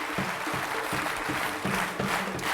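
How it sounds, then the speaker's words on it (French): An audience applauds on the French game show Attention à la marche with Jean-Luc Reichmann, a dense, steady wash of clapping that carries on for the whole stretch with no voices. "Je voudrais qu'on vous applaudisse très fort."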